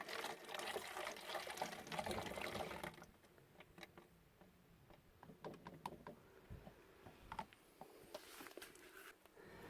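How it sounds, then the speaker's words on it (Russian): Mixed liquid cleaning solution poured into an injector flushing station, a continuous close trickle and splash for about three seconds, then quieter dribbling, handling noises and clinks. "Заливаем смешанные компоненты в промывочную станцию."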